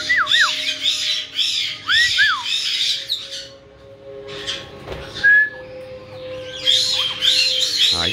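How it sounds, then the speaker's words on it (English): Pet parrots screech and squawk in repeated loud, harsh bursts near the listener, with a few whistled notes and brief gaps of quieter room sound between calls. "You want some screeches?"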